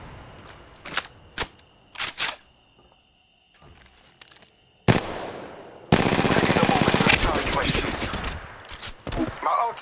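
Gunfire in the mobile battle game Apex Legends Mobile: a few scattered sharp shots with quiet gaps, then a long, loud, continuous automatic burst that tails off into a few final shots.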